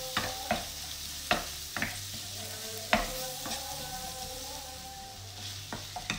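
Crushed tomatoes for Indian-style spinach sizzle and simmer gently in a pan, a soft, steady bubbling punctuated by occasional sharp clicks and taps of stirring.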